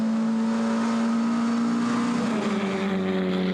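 Onboard a GTC race car at Zwartkops Raceway, a loud steady engine whine holds close and constant, then shifts pitch slightly as the car moves through a gear or corner, with no talking.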